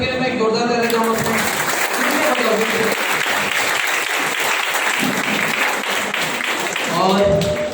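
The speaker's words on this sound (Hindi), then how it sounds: "सबसे पहले सर के लिए मैं एक जोरदार ताली चाहूंगा।" Audience applause at a MI LIFE leader's gathering in Boisar: dense, steady clapping from a large crowd that fills the whole stretch, with a voice speaking briefly over it at the start and again near the end.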